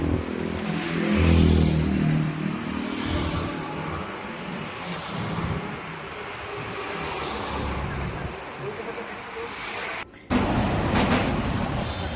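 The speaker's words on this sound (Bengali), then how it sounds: "দেখো লেফট সাইডে বাঁ দিকে ট্রেন যাতায়াত করছে।" A train passing near the Dakshineswar ferry ghat by the Ganga, a steady broad rumble with rolling low-end swells running throughout, fairly loud outdoors, with a brief gap near the end.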